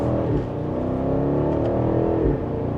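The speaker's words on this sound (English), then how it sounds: "let's give it another acceleration as we merge into traffic here" A BMW X6 M60i accelerates hard while merging into traffic, its engine note rising in a loud, continuous rumbling drone heard from inside the car, with a brief dip as the gear shifts.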